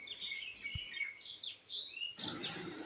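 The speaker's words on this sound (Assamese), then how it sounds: "পক্ষীৰ এই কলৰৱ শুনি মই ইমান পুলকিত হৈ পৰিলোঁ" Several birds chirp and call at dawn around 4:31 on a hot morning, heard through an opened window; thin, scattered tweets overlap at moderate distance, with a broader rustle of noise toward the end.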